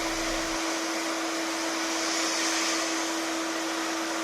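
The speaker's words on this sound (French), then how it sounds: "Grâce à la microbilleuse, chaque pièce est nettoyée minutieusement." Bead blaster hissing steadily as it cleans parts from a 1981 Porsche 911 3.0 SC, a continuous, even rush of blasting air with a constant tonal hum beneath, with no talking.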